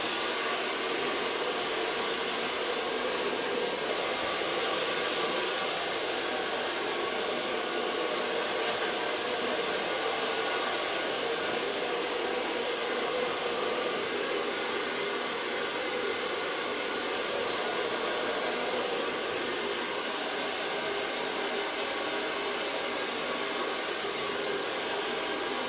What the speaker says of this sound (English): So far blow drying.